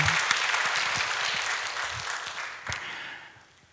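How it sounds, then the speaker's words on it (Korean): A church congregation applauds together in a dense wash of clapping that stays loud, then fades away toward the end. "큰 박수 합시다"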